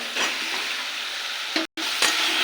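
Curry masala with turmeric, coriander powder, a little sugar and fried potatoes sizzles and is stirred in a pan, a steady close frying hiss broken by scraping stirs and a brief gap.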